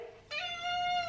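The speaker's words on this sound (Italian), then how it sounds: "Che gatto." A cat gives a single clear, drawn-out meow, close and loud, starting abruptly after a moment of quiet and holding a falling tone for nearly a second.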